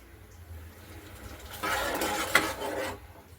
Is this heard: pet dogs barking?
no